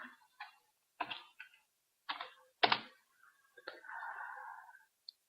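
Typing on a computer keyboard while entering commands in Matlab, with a handful of separate, sharp key clicks spread irregularly apart and a longer keystroke run near the end, fairly close and quiet, with no voices.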